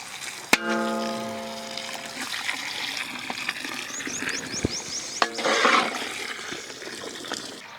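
Water poured into dry fish curry in a large kadai at an outdoor village cooking site makes a continuous rushing gush. It sits among a loud metallic clang, scattered knocks and ambient background sounds.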